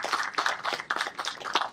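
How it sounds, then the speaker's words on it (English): Brief round of audience clapping for a panelist at an HR panel discussion on employee engagement, a few distinct soft claps in loose rhythm, fairly faint and alone. "A big round of applause for him."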